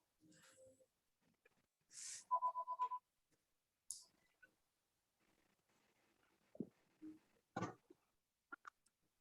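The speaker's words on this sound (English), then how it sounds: "got a phone interruption here" A phone rings during a water committee meeting: a quick burst of evenly spaced electronic tones, fairly quiet, surrounded by scattered small room noises and a brief throat sound.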